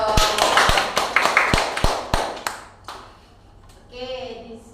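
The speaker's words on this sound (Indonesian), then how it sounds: "Tepuk tangan dulu dong." Classroom applause in a microteaching accounting lesson: a short burst of separate sharp claps from a small group, fading out after about two and a half seconds, followed by a faint voice.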